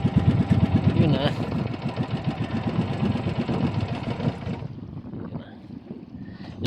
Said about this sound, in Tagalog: Patay na yung makina.